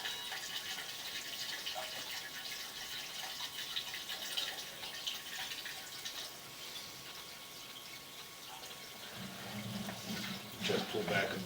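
Water pouring down from above at a house on Russell Street, a steady broadband splashing rush running throughout, with a brief low rumble and louder splash near the end.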